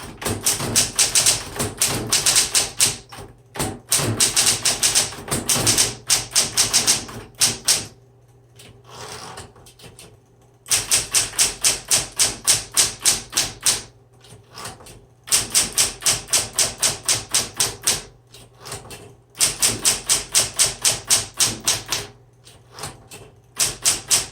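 A 1960s Smith Corona Coronet Electric 12 typewriter is typed on in quick bursts of sharp, rapid key strikes, close and crisp. Brief pauses and the thud of the carriage return break the bursts.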